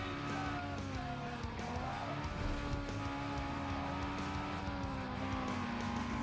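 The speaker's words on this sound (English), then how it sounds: "VTEC put us in first." Honda VTEC engine in the racing game Need for Speed Underground 2 drones continuously at high revs, pitch wavering and stepping as gears change, loud and close with squealing tires mixed in.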